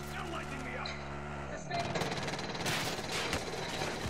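Video game gunfire erupts after a short tonal passage: rapid, dense bursts of shots crackle loudly and continuously through the second half.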